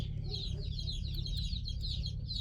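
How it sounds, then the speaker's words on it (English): Baby chicks in a hatching station at the far end of an office peep in a steady, rapid chorus of high chirps, heard at a distance over a constant low hum. "I have a hatching station for my baby chicks on the other end of my office."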